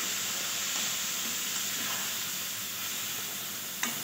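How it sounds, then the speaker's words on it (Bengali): Ground spices sizzle and get stir-fried with a little water in a pan for a vegetarian banana flower ghonto, a close, steady hissing fry that continues evenly with a faint scrape near the end. "এবারে দিয়ে দেবো গুঁড়ো মশলাগুলো, দিয়ে ভালো করে কষিয়ে নেব হালকা জল দিয়ে।"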